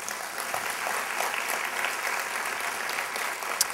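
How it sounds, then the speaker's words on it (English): Applause from an audience at a chamber of commerce awards event, a steady, even wash of many hands clapping, sustained and moderately loud throughout. "who are also over here and deserve a round of applause"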